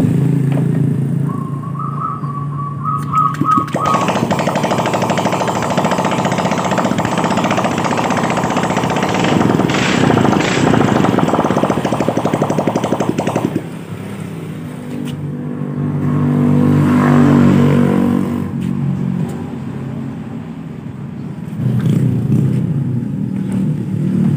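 A Honda Beat scooter engine starts and idles steadily, then revs up and settles again, a loud, close, continuous motor drone with no voices.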